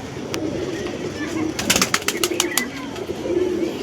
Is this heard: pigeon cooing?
yes